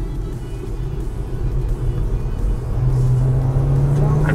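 Under full kick-down acceleration, the thermal engine cuts in, and a steady road rumble inside a car swells into a rising tone that climbs in pitch, loud and close.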